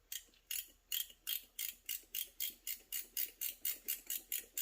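Ratcheting wrench tightening a part on a 1993 GMC Typhoon, about fifteen quick, even clicks at close range, steady and metallic, with no talking.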